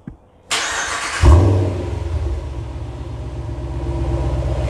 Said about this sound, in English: We finna start it off with a cold start.